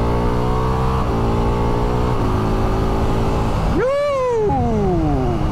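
Ducati Multistrada V4S four-cylinder motorcycle engine accelerating hard, climbing through gears with quick-shifter upshifts about a second apart, then a brief cut and a final rising scream, loud and close.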